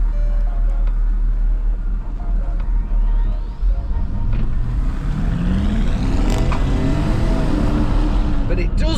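Porsche Cayenne Turbo engine, a cheap faulty example, revs loudly up close with a deep rising roar and climbing pitch, accompanied by talking.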